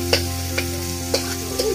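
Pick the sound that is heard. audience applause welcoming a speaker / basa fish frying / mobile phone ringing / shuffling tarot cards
basa fish frying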